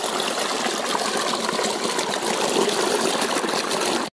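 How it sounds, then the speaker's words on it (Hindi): Clear stream water flows past soil in a forest, a steady broad rushing wash that stays loud and even throughout with no talking. "देख सकते हैं बहता हुआ पानी मिट्टी के सामने से बह रहा है लेकिन एकदम क्लीन पानी है"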